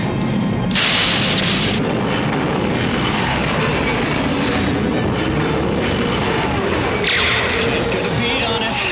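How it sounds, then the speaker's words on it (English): A supersonic jet roars overhead in a video game, a loud, sustained engine rush with booming surges at the start and near the end, layered over dense background action. "That accursed supersonic jet's following me!"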